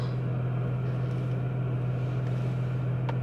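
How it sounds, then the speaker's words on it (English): A parked car's engine idles steadily while warming up, a constant low hum with a strong low drone, close and unbroken, with faint small clicks near the end. "Gotta let the car warm up."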